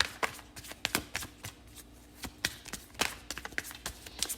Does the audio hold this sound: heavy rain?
no